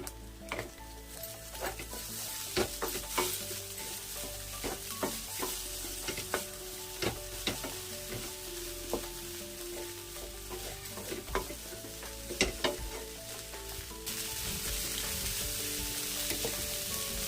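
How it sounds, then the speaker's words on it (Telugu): Egg fried rice with coriander is stirred in a hot pan, a steady sizzle under repeated sharp scraping and clinking strokes of a utensil against the metal, close and without speech. "ఇందులో చివరిగా కొత్తిమీర కూడా వేసి బాగా కలుపుకుందాము."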